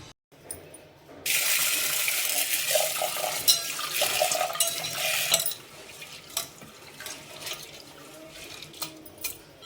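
Toor dal lentils are rinsed under a running tap in a kitchen sink, a loud gush of water starting abruptly, then softer splashing and swishing with light clinks of the vessel as the water eases.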